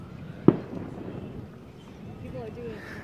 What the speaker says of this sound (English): People are doing fireworks.